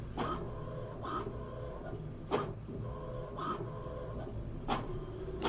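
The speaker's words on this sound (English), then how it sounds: "while this is printing" An HP Tango printer runs through a print job, giving a low steady mechanical hum with a few periodic louder clunks and feed sweeps about every second, fairly close and without speech.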